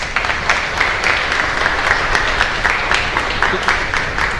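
A congregation at a live Mass in a chapel in Luque gives a sustained round of dense clapping for visiting chapel members, steady and fairly close for the whole stretch.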